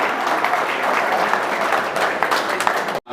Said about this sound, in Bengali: হাততালি সাবির স্যারের জন্য প্লিজ